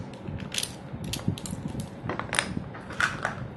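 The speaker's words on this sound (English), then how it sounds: "So we'll put the washers on." Metal washers being fitted onto battery terminals while assembling a 6P 7S battery pack, small scattered clicks, taps and light metallic scrapes, close and fairly quiet with no talking.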